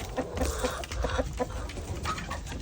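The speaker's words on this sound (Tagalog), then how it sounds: "magpapakain kami ng mga manok ngayon" Chickens waiting to be fed cluck in short, repeated bursts against a steady background hum, a small flock nearby with no people talking.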